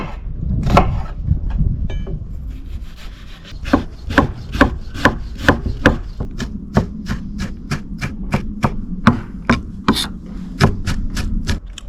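Green onion finely chopped with a knife on a board: a quick, steady run of sharp close chops, speeding into a regular rhythm.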